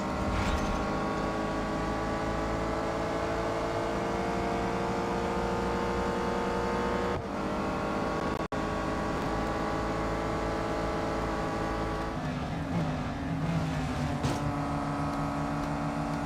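Race car engine in the mobile racing game Real Racing 3 during an inside overtake, the car short on power; a loud, steady synthetic engine drone with layered harmonic whine, holding pitch with brief dips and shifts, no talk.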